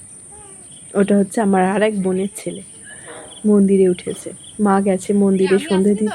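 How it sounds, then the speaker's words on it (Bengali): Crickets in a village at dusk keep up a steady, high, continuous trill beneath close conversational speech that comes in bursts throughout. "কেমন ঝিঝি পোকার ডাক শোনা যাচ্ছে শুনতে পাচ্ছ"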